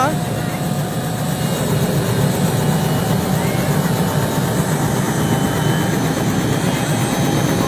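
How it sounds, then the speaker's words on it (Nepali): A helicopter lifts off from a newly built helipad, its engine and rotor roaring loudly and steadily throughout, close by. "अब हेलिकप्टर उड्दैछ।"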